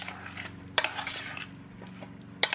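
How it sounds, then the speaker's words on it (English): A spoon stirs beans and rice in a pan for Mexican-style rice, with soft scraping and a couple of sharp clinks against the metal, close and quiet, with no talking. "Just give it a stir and then we're done."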